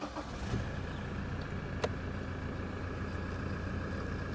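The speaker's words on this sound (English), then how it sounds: "We will start the car up so you can have a listen to the engine" A 2016 Toyota Hilux SR5 engine runs at a steady, close idle, its low rumble continuous throughout with a brief sharp click partway in.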